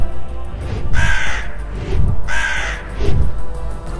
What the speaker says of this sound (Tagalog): bigla namang dumating nun ang isang uwak.